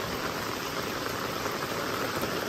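Torrential village rain pours down in a steady, unbroken wash of hiss, loud and close, with no voices and no pauses across the short stretch.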